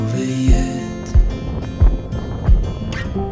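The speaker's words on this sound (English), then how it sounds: "It's really windy." Strong wind gusts buffet the microphone at Cadillac Ranch in Amarillo, Texas, producing a roaring rush with several heavy low thumps spaced about a second apart.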